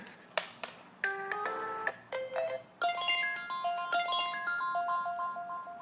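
iPhone 6S ringtone playing through a speaker filled with water after submersion, a faint, thin electronic melody of plinking notes, sparse at first and then a denser repeating pattern, with no talk over it.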